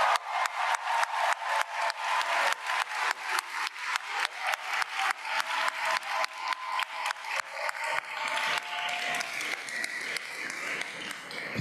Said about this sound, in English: Please hold your applause until all the JD graduates have been presented and have left the stage.